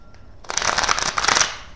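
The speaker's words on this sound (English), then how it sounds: "I'm going to shuffle 3 traditional times" A quick riffle shuffle of tarot cards, a short fluttering burst of card edges snapping together, close by with no talking.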